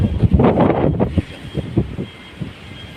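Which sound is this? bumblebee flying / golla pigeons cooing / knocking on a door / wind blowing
wind blowing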